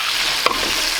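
Steaks with garlic sizzle in hot fat while being basted, a continuous close frying hiss broken by a quick soft splash of spooned liquid.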